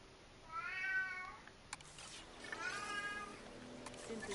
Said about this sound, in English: my cat's being loud.